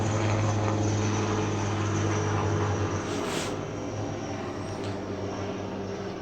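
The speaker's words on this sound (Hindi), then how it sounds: "ये हेलीकॉप्टर आ गया" A helicopter passes overhead, a loud, steady rotor and engine drone that fills the whole stretch and slowly fades slightly, heard without talking.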